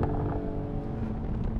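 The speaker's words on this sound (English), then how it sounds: "where you can play the exhaust like that. Listen to it. It sounds brilliant." A 2020 Mercedes-AMG GLE 53 exhaust sounding off, a low, throaty engine drone that stays steady and fairly close for the whole stretch, with some wind rush over it.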